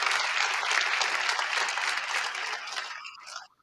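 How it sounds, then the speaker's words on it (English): Applause from an audience at an anniversary commemoration, a fairly quiet, even patter of clapping that tapers off and stops near the end. "So one more round of applause to honor them for their passion and their leadership."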